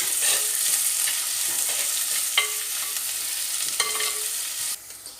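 Onions frying in a pan for a Tulu-style marwai dish, with a steady broadband sizzle and several sharp scraping stirs close by, the sizzle cutting off abruptly near the end; no talking.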